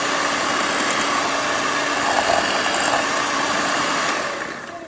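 An electric beater whips butter and sugar for a cake batter, giving a loud, continuous motor whir that holds steady and then eases off slightly in the last second.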